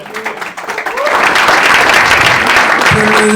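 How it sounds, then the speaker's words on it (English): Applause from an audience at a GRID Knoxville seminar on new construction, thin scattered claps quickly swelling into steady, dense clapping that fills the room and holds loud to the end. "Clap your hands if you did."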